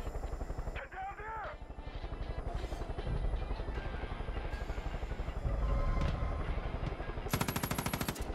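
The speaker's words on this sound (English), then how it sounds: "There was a helicopter that killed me." Helicopter in the video game Far Cry 5, with rapid gunfire from it bursting over a continuous rotor and engine drone, dense combat noise throughout and a loud rattling volley near the end.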